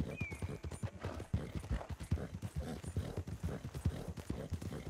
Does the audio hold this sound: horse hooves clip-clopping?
yes